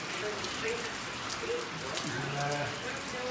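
Steady rain falls outdoors on a muddy sheep farm, a constant hiss of drops with faint background murmurs, fairly soft and unbroken.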